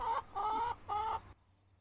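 A chicken clucks close by in three short, bright bursts, then goes quiet.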